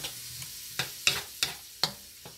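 Chicken fried rice sizzles steadily in a pan while a utensil scrapes and stirs it in five or six sharp, evenly spaced strokes, heard up close.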